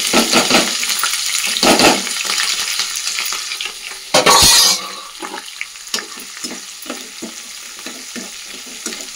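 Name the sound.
onions frying and being stirred in a pan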